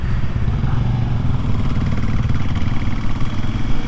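Kawasaki KLX 300SM motorcycle engine running steadily close by, a continuous low, rumbling drone with a faint mechanical clatter and no speech over it.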